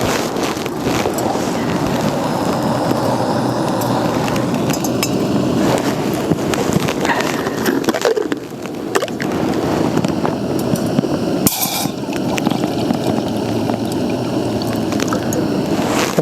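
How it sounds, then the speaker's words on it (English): A portable gas camping stove burns after piezo ignition as part of a budget bug-out cook kit, giving a loud, steady, close roaring hiss that runs unbroken throughout, with one brief dip and a faint clink. "And then you just turn the gas on and then click the piezo igniter."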